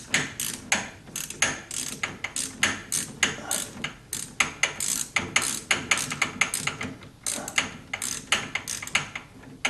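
A hand ratchet tightens the lower radiator hose fitting on a 1976 Corvette restomod. Steady, rhythmic clicking strokes sound up close and alone, with brief pauses between runs.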